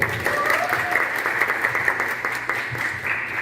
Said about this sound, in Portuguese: Queria uma salva de palmas para o Carlos Gabriel.